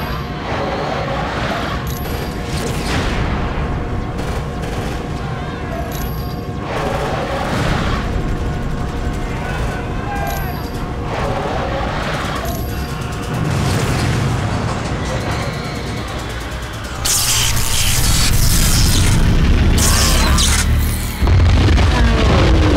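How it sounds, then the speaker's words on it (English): Heavy booming blasts and rumbling impacts of an energy attack detonating in the Marvel Ultimate Alliance video game, dense and loud with crackling debris and a big burst near the end. "he is attempting to destroy us with an energy blast"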